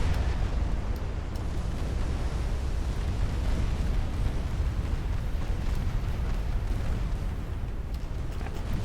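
Ship turrets exploding and cooking off in a naval war game, a dense, continuous roar of rumbling blasts and crackling detonations that stays loud and steady throughout.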